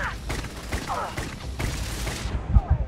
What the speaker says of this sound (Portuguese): Morri, porque esse cara vai atirar em mim.